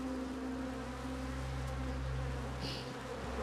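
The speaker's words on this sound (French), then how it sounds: "Les abeilles dévorent leur stock pour survivre." Honey bees buzz in a steady, dense drone, short of stores after a flood left no flowers to forage; the hum stays continuous and close, with no voices.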